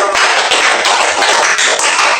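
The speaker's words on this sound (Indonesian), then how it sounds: "Oke, beri tepuk tangan dulu." Children in a classroom clapping their hands together, a loud, fairly rhythmic burst of many small claps repeating close by with no talking.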